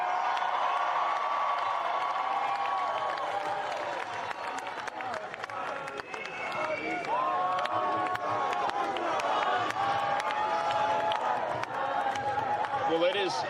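A large rally crowd cheering and applauding, a sustained roar of clapping and shouting with whistles and voices rising over it throughout.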